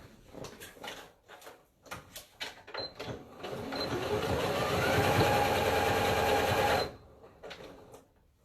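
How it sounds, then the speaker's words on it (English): A sewing machine stitches a fabric headband bow, running in a sustained whirring burst of a few seconds after some handling clicks and taps, close by with no talking. "I'm going to sew on both sides, on this side and on this side."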